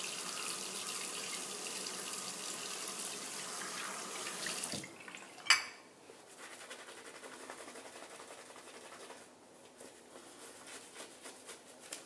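Tap water runs steadily into a shaving bowl to thin synthetic-brush lather, a broad close rush that cuts off suddenly, followed by a sharp clink and quieter trickles and faint handling sounds.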